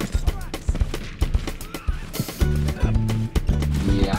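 Rapid gunfire cracks in the Battlefield V video game, with quick bursts of shots hitting the player and a brief tonal game alert pulsing over the later shots.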